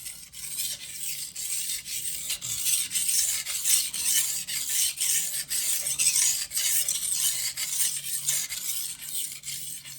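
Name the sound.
knife edge being sharpened on a stone with very light pressure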